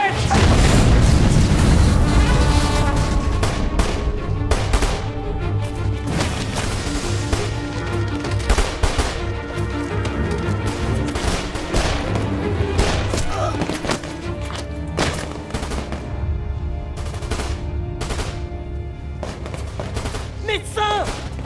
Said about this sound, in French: Lance-roquette!